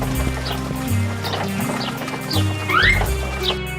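Horse hooves clip-clopping in an animated Snow White film scene, a steady galloping rhythm under orchestral music with occasional whinnies, fairly close and moderately loud.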